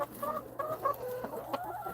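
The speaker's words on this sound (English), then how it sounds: "Yeah, my chickens are spoiled, y'all." Chickens in a cold winter coop on a snowy homestead give soft, fairly quiet clucks, a few short bursts in quick succession over a low steady hum.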